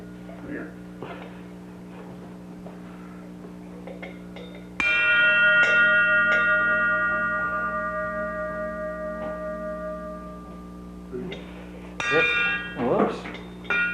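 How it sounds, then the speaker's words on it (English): An old Swiss cowbell, a family heirloom, is struck once with a sharp clang, then rings and slowly decays before a softer jangle near the end, with people talking before and after in a quiet room. "This is a Swiss cowbell"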